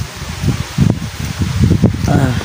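Strong wind gusting across a mountain trail, a broad rough rustle that swells and buffets the microphone in bursts, with faint speech and movement under it.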